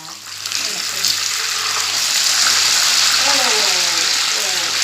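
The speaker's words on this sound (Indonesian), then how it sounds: "terus kita goreng. Kita goreng sampai kering ya." Steady loud sizzling and crackling of tilapia (mujair) fish frying in hot oil, continuous throughout, with a voice speaking faintly underneath.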